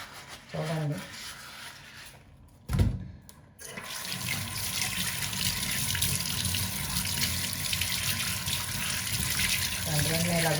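Plastic stove trays are scrubbed and rinsed under a running kitchen tap, a steady rushing stream with rubbing and clatter, briefly interrupted by a sharp knock before the flow continues.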